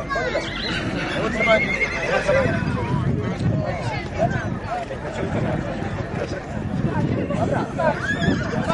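Horses whinny and neigh repeatedly at a horse gathering, with hooves clattering on the ground, and loud voices and crowd babble continuing throughout.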